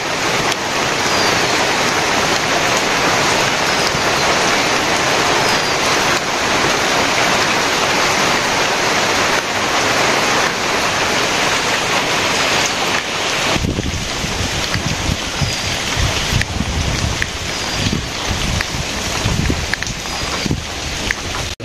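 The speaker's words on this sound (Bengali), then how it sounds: "এই যে বৃষ্টি শুরু হয়ে গেছে," Steady rain pours down over a riverside village, a dense, continuous hiss that holds loud and unbroken throughout with no one talking.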